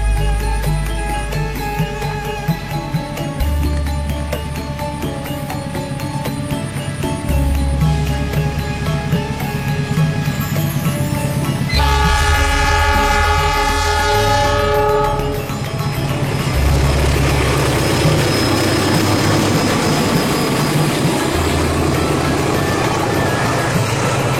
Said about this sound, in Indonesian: Di sini kami juga merekam kereta ketel setengah rangkaian dari Surabaya tujuan Malang.